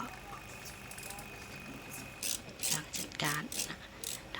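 Ratchet clicking in short bursts while a mechanic tightens the air conditioner condenser mounting bracket on an Isuzu TFR pickup, fairly close, over a quiet workshop background.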